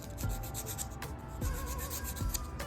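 A coarse 80-grit nail file rasps back and forth across an acrylic stiletto nail during an acrylic fill, producing steady, close, repeated scratchy strokes with no talking.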